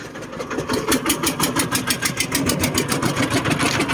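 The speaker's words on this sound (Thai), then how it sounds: "เดี๋ยวดับเครื่องก่อน" A Thai E-taen farm vehicle engine idles up close, a loud steady fast chugging pulse with even repeating beats throughout.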